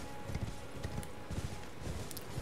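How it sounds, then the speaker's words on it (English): A horse gallops at a sprint in Elden Ring, its rapid, rhythmic hoofbeats thudding steadily and close throughout the short stretch. "Did you know you can sprint with Horsey Man?"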